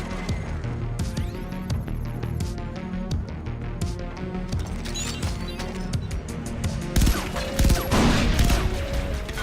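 Pistol shots in the video game Far Cry 3 Blood Dragon crack in a rapid run over a busy, layered game soundtrack, with the firing growing denser and louder near the end.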